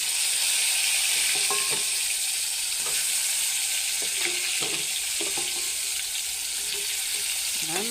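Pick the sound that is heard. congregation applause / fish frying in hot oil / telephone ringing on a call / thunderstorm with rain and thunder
fish frying in hot oil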